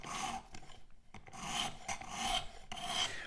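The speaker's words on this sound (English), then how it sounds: "Once I pull a burr and go on to the next grit, I'll probably do, these type of strokes, just the forward strokes." A knife is drawn in repeated sharpening strokes across the abrasive on a Work Sharp Precision Adjust Elite. About six quick, gritty rasps come at an uneven rhythm, close up and fairly quiet, with no voices.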